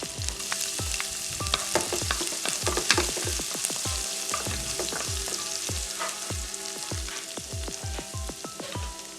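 Garlic, ginger and Scotch bonnet pepper sizzle steadily in a pot for a spicy seitan curry, with a continuous hiss broken by regular, close scraping stirs of a utensil against the pot.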